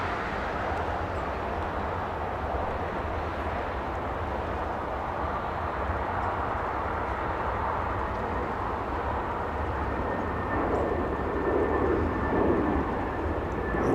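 A Boeing 747-400 arriving at Los Angeles International Airport after a six-hour flight from New York, its engines a steady, broad roar that holds at moderate distance and swells slightly toward the end.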